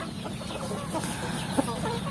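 Free-range village chickens, kept loose in a traditional yard, give soft, scattered clucks against a steady outdoor background, with one brief sharper call.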